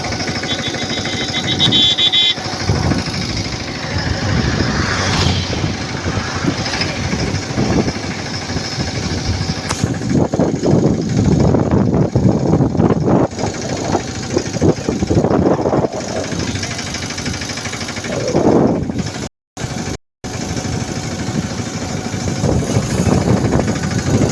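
A tractor engine idles steadily with a heavy, clattering, mid-pitched rumble, briefly cutting out for a moment near the end.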